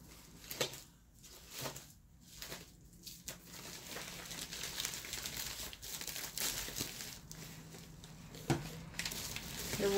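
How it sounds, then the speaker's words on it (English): A package holding embellishment boxes is cut open and unwrapped, with soft crinkling, rustling and tearing of packaging close by, faint and intermittent over quiet room noise. "I have a package here that has some embellishment boxes in it, and I'm gonna cut it open real quick"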